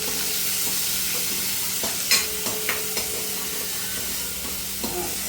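Onion, mixed bell peppers and carrot are tempered in ghee, giving a steady close sizzle throughout with a few sharp utensil taps and stirring scrapes scattered on top.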